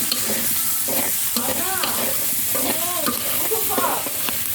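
Eggplant frying lightly in oil over a clay stove, giving a steady loud sizzle with stirring scrapes and small crackles, and no talk over it.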